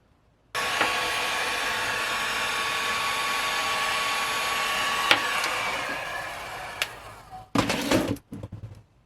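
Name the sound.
heat gun shrinking heat-shrink tubing on a wire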